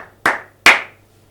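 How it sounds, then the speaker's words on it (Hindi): A man claps his hands twice, two sharp, loud, close claps about half a second apart, each with a brief ring, against a quiet background. "इसके लिए मैं ताली इसलिए बजा रहा हूं"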